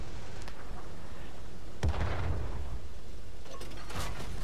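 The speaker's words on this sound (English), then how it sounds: "I shoot on the move and fail to pan the 777 with a premium round" A light medium tank in World of Tanks fires a premium round while moving, a single loud booming cannon shot with a rolling tail, under steady engine and track rumble, with a fainter second blast near the end.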